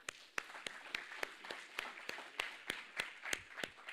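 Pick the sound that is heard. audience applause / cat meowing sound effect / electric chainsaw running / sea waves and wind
audience applause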